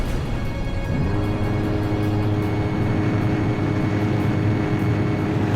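A steady, loud jet engine roar in the video game Ace Combat 5: The Unsung War drones on throughout, with a deep rumble and a broad hiss, growing slightly fuller after the first second.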